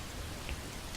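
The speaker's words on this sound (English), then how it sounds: "This is a real storm, and I think this episode I had wanted to find our other companion, but with torrential rain" Torrential storm rain in modded Skyrim pours as a dense, steady hiss of drops hitting surfaces, fairly soft and unbroken through a brief moment with no voices.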